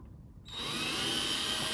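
An electric drill with a bent bit spins up after a quiet moment, then holds a loud, steady high-pitched whine close by, with no talking over it.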